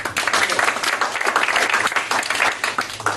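Audience at a stage hypnosis show bursts into a round of applause, lively dense clapping swelling and pulsing close by, with a murmur of voices mixed in.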